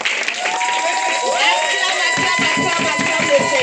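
Church congregation at a French-language praise and worship service in Goussainville cheering and shouting acclamations, a dense crowd roar with raised voices, later joined by a steady rhythmic pulse of clapping or drumming.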